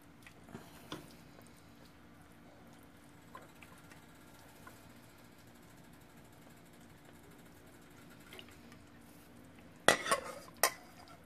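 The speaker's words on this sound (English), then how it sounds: "I'm going to skim some of this oil out" A spoon scrapes and clinks against a metal pot while skimming oil from simmering Hawaiian-style oxtail soup, a low steady bubbling underneath and a couple of sharp metallic knocks near the end.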